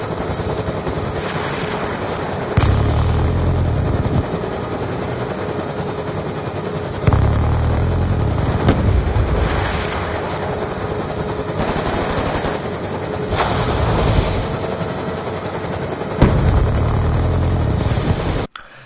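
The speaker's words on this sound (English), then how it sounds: "How about the stealth chopper from Black Ops 2?" Stealth chopper from the Call of Duty game Black Ops 2, a steady loud rotor drone with bursts of gunfire breaking in every few seconds, no talk.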